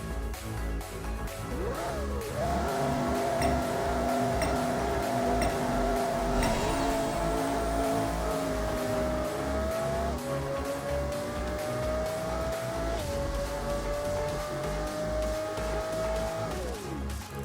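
Race car in the video game Apex Racer on a half-mile run, its engine climbing steadily in pitch through several gear shifts, a continuous loud synthetic roar with no voices.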